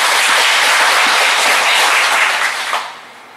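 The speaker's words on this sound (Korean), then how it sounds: "우리 하나님께 영광의 박수 드리겠습니다." A church congregation claps in a burst of applause, dense and steady for a few seconds before fading away at the end.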